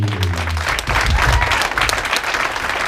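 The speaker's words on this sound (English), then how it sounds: "Please make some noise for Philip Duthie." A crowd at a fight event bursts into loud, sustained applause and cheering for a red-corner fighter's ring introduction, following the tail of an announcer's voice.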